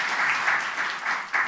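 Applause from an audience at a community college closing session: a steady, dense patter of many hands clapping, moderately loud and continuous through a brief stretch with no voices.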